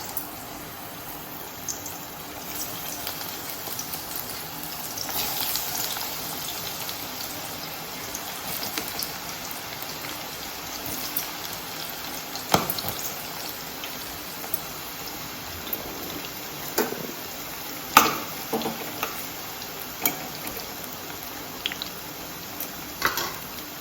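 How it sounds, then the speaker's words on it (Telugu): Bitter gourd pieces deep-frying in hot oil in a home kitchen, a steady fine crackling sizzle with scattered sharper pops throughout, fairly close and even in level, with no talking. "ఫస్ట్ ఆయిల్ వేడైంది, మనం ఇప్పుడు ఫస్ట్ కాకరకాయలు వేసుకుందాం."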